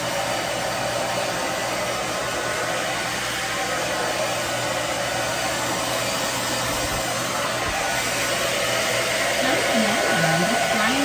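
Hair dryer blowing steadily on a bathed chicken's wet feathers, a loud continuous close-up whoosh with faint shifting tones toward the end.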